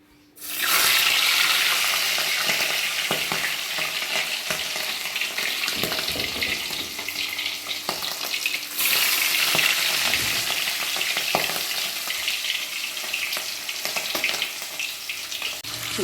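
Hilsa fish pieces are dropped into hot oil in a pan, setting off a loud, continuous sizzle and crackle that surges again midway and keeps frying steadily close by.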